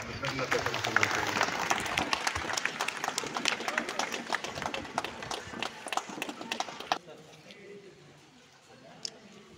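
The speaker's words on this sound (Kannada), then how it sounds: "ನಾವು ಎಲ್ಲರೂ ನಿಂತು ಮಾನ್ಯ ಜಿಲ್ಲಾಧಿಕಾರಿಗಳಿಗೆ ಕೃತಜ್ಞತೆ ಚಪ್ಪಾಳೆ ಹೊಡೆದ ಕೃತಜ್ಞತೆ ಸಲ್ಲಿಸುತ್ತೇವೆ" At a fair held in a temple courtyard, a crowd claps to thank the district collector. The applause is loud and dense and lasts about seven seconds, then drops to quiet room noise with a faint voice.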